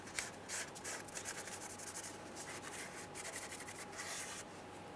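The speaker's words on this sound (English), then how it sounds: "go ahead and clean up the mounting base on that differential housing where your actuator will sit" Steady rubbing and scraping as the mounting base on a 2011-2018 Ram 1500 5.7L V8 differential housing is cleaned of old gasket and debris where the 4WD axle locker actuator sits, a close, continuous scrubbing with brief strokes.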